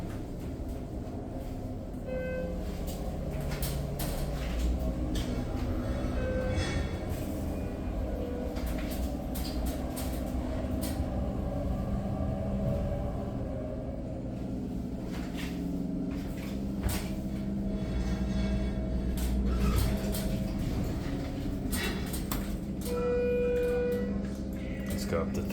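Inside a Schindler 330A hydraulic elevator cab, a low, steady hum and rumble carry on as the car travels down, with faint clicks and a couple of soft chimes along the way.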